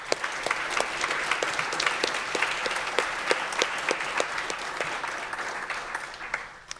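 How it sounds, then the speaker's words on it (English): An audience at an immigration-themed lunch-and-learn event gives a round of applause in a room. Many hands clap steadily at a fairly close distance for several seconds, then the clapping thins out and fades at the end. "So can we just give them a round of applause?"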